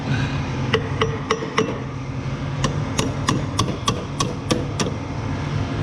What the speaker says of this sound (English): Let's go with this hammer.